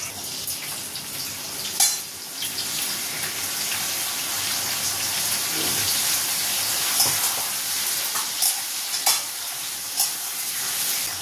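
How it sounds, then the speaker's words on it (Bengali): A curry in a frying pan sizzles steadily and close by as spices are added and stirred in. Irregular spatula scrapes and taps recur over the continuous hiss, and no one talks. "চলো তরকারিটা করে নিই, মশলাটা দিয়ে দিই, ভাজা হয়ে গেছে"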